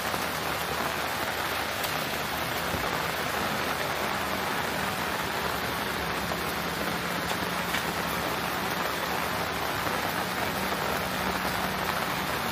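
Heavy coastal rainfall drums on sand and surfaces near a temple, an unbroken broadband roar of drops holding level throughout, close and loud, with no one talking.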